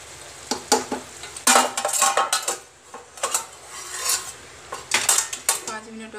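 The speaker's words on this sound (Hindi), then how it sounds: "इसको हम फिर से ढक देंगे" Metal clatter of a cooking pot being handled and covered with a lid while vegetable biryani cooks, with several sharp clinks and scrapes in irregular bursts.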